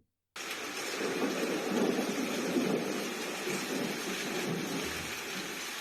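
Steady rain pours down with a low rumble of thunder underneath, a continuous storm that begins abruptly and carries on without speech.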